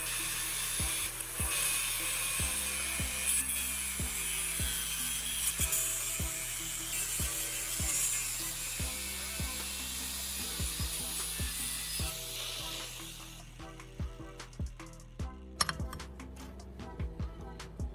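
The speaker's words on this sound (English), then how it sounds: "I'm using an angle grinder to cut away the teeth of the sprocket." Angle grinder cutting the teeth off a metal sprocket held in a clamp, a steady close high-pitched grinding whine with rhythmic thumps running throughout, easing off near the end into scattered clicks and scrapes.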